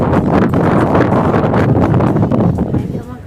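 Strong wind gusting across an open third-floor terrace, a steady loud broadband roar buffeting the microphone throughout with no pauses.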